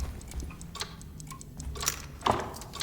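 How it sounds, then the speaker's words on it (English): An old clock ticking in the video game Alone in the Dark, with faint, irregular ticks in a quiet room and a sharper click near the end. "This must be the clock that Jeremy wrote about in the commonplace book"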